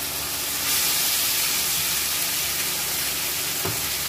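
Ginger, coriander, cumin and dried red chili pastes fry with onion in a pan, giving a steady close sizzle with light steamy hiss and a brief stirring scrape near the end.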